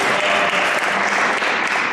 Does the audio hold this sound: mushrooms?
no